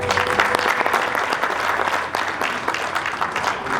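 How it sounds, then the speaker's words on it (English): Sustained applause from a crowd at a graduation ceremony, dense clapping holding steady throughout with no voices standing out. "join them in a round of applause to celebrate them"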